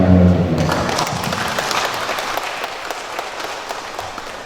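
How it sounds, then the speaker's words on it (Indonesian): Guests applaud newlyweds at a church wedding blessing, the clapping rising as a voice stops at the start, then continuing as a steady, moderately loud patter that slowly eases off. "Sekarang kita tepuk tangan untuk mereka."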